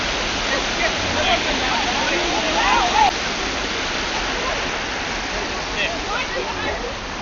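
A waterfall, heard as a loud, steady roar of falling water that fills the scene continuously, with a few splashy bursts along the way and a brief voice partly under the rush.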